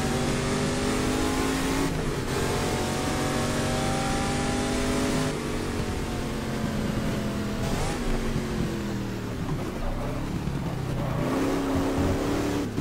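A race car engine revving hard in GT Legends, a loud continuous whine climbing in pitch through each gear and dropping at the shifts, repeating across several upshifts.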